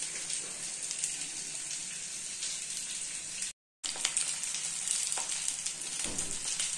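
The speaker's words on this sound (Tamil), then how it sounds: "தேவையான அளவு எண்ணெய் ஊற்றி இந்த வாழை இலையில் கட்டி வச்ச மீனை அதில் வச்சுக்கணும். வச்சு வேக வைக்கணும்." Banana-leaf wrapped fish frying in oil in a Kerala-style pan gives a steady, close hiss of sizzling, broken by a short silent gap midway, with a few faint clinks near the end.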